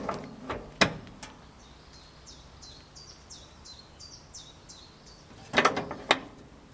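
An engine is turned slowly clockwise by hand to find top dead centre. Soft ratcheting mechanical clicks repeat in a quiet, regular series, framed by a few sharper knocks at the start and end.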